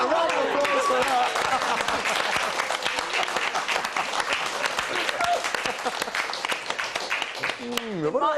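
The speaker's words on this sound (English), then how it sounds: "a round of applause for that" Studio audience on a topical comedy panel show breaks into loud sustained applause, a dense roar of clapping with a voice talking over it at the start and end.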